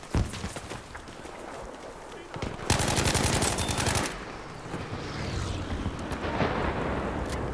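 Gunfire in Battlefield 5 on the Wake Island map, loud close bursts of automatic fire, with one sustained burst in the middle amid ongoing battle noise and some talk.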